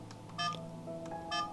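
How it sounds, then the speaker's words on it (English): A Crosstour CR250 dash cam gives two short electronic beeps, evenly spaced and fairly quiet, over faint background hum. "We have beep sound"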